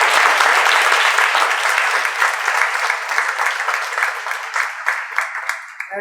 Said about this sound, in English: give her a little round of applause